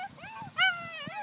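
German Shepherd puppies whimper and whine in a series of high, sliding cries, with one louder, strained whine in the middle, heard close and alone.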